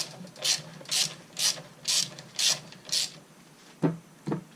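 A ratchet adjuster on a Dewalt DW708 miter saw clicks as it is tightened, six evenly spaced raspy ratcheting strokes followed by two sharper clicks, close and alone.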